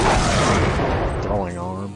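A turret in the video game System Shock 2 fires a loud burst of gunshots at close range, the blasts dense at first and then thinning out over a couple of seconds.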